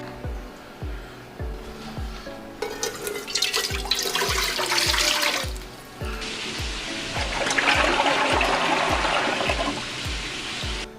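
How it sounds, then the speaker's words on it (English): Water runs from a tap into a pot for thin spaghetti, a loud rushing stream that starts, pauses briefly and resumes over a steady pulsing music beat. "let's get the water in the pot, and then we'll go from there"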